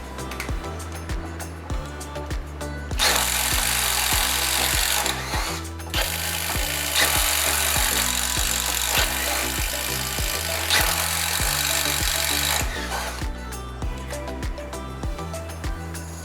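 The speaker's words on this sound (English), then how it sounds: "We have a 1/2-inch twist bit. I'm going to do 3 holes in 2x standard non-pressure treated lumber." A subcompact drill bores 1/2-inch twist bit holes in standard non-pressure-treated 2x lumber, with loud motor whine in long bursts and a rhythmic stream of clicks and thumps between the runs.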